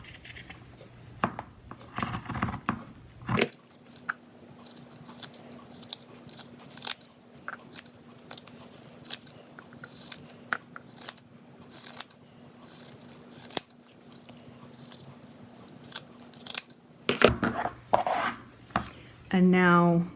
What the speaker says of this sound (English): So I like to use the pinking shears.